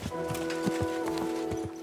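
Horse hooves clip-clop at a steady walking pace in the medieval game Kingdom Come Deliverance 2, a rhythmic series of close, moderately loud thuds over a constant low ambient hum.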